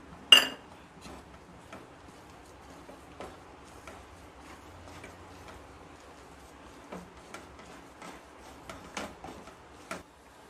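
A spoon stirs grated coconut into a thickening fried-rice laddu mixture in a pan, making scattered light clinks and scrapes against the metal, one sharper knock at the start, and no voices.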